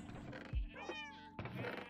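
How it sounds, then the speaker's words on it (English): Several cats meow in the Minecraft video game during an evening family play session on a 1.20 Realm, a couple of clear, close mews over a steady game background with faint talk. "A little difficult working around all of the cats."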